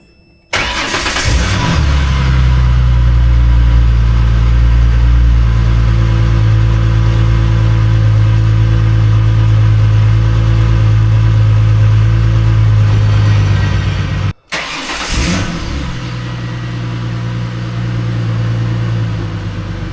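A Ford Mustang S197 engine cranks and fires up, settling into a loud, steady idle close by; it briefly cuts out near the end, then restarts and idles again.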